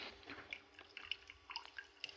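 Water drips from the blue product tube of a reverse osmosis unit rated for 100 gallons per day: scattered small, close drops in an irregular rhythm over a quiet background.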